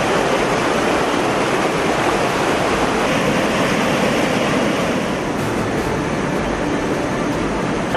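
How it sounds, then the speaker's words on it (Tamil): Palar river floodwater pouring over a submerged causeway at Walajabad, a loud, steady broadband roar of rushing water without a break, close and continuous. "வாலாஜாபாத்தில் தரைப்பாலத்தை மூழ்கடித்த பாலாற்று வெள்ளம்."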